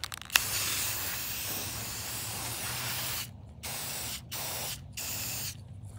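A can of spray paint hissing onto a tree stump: a long, steady, close spray, then several shorter bursts broken by brief pauses.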